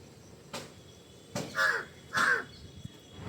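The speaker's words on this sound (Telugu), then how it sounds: "ఇలా కాకులు అరిచి కూడా చాలా రోజులు అయిపోతుంది" Two loud crow caws ring out close by, spaced about half a second apart, with a few soft knocks and thumps around them.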